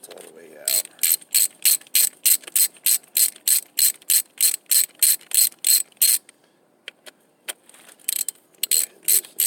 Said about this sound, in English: Just take these bolts all the way out.